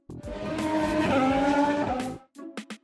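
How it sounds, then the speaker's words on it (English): A race car roars with engine noise and squealing tires as it skids, loud and sustained, then cuts off into a few short bursts. "Race car."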